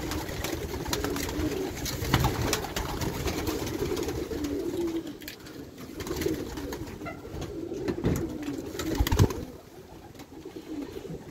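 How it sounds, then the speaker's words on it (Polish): Pigeons released from the loft coo continuously close by, a soft rolling chorus with wing flaps and occasional louder bursts. "Rozpuszczanie gołębi."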